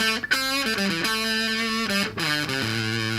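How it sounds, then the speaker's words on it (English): Heavily distorted electric guitar through a Fuzz Face pedal alone, fuzzy and saturated, plays a short melodic phrase, loud and close, with no voices. "The fuzz face on its own sounds like this,"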